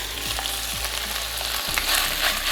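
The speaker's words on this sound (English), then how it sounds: "You should be hearing all the sizzling sound" Pork frying in a hot pan on an induction hob over medium-high heat, a steady close sizzle running the whole time with soft stirring scrapes, no voices.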